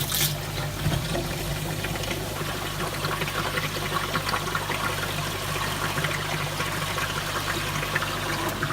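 Water trickles and pours steadily through a home-made koi pond filter chamber packed with biomedia, with the water level running low, a continuous close splashing flow.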